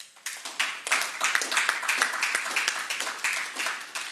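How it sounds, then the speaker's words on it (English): An audience at the Racers Grand Prix 2025 launch applauds Jamaica's athletes, with dense, lively clapping from many hands rising quickly and holding steady close by. "And that applause too, Fenke Fenke. You really need to applaud our athletes and really, big them up."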